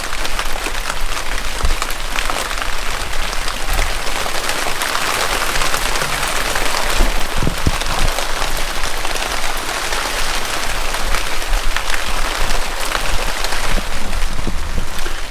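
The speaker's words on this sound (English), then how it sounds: "It starts raining." Steady rain falls in a yard, hissing loudly and evenly on surfaces throughout, with no voices heard.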